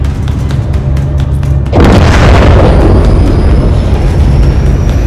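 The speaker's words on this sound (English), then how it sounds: "have your man drop a missile on that hangar" Missile strike destroying a hangar in the Call of Duty Modern Warfare 3 video game, a sudden massive booming explosion after a short lull, followed by a long loud rumbling roar of debris and fire.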